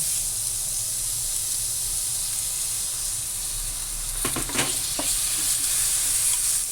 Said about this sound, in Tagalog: Gigisa lang muna natin